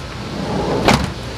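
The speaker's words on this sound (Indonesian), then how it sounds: "sekarang kalian dengar hasil tutupan pintunya" The door of a Toyota Sienta fitted with foam sound-deadening on the door trim shuts with a single dull, muffled thud, close by against a low steady background hum.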